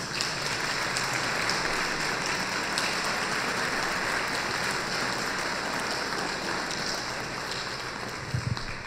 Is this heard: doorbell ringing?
no